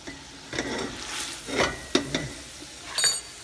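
Onions sweat in a pan with a soft sizzle under several stirring scrapes and clinks of a utensil against the pan, heard close and at moderate volume.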